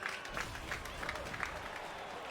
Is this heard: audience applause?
yes